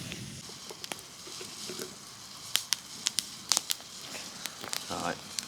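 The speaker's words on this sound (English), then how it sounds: "Alright, so we nearly have boiling water." Water nearly boiling in a flask set in a campfire outdoors while wild camping, heard as a soft continuous hiss and sizzle with scattered sharp crackles and pops from the fire, close by.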